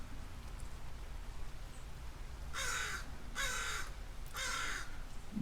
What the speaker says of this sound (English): My crow buddy's back out there.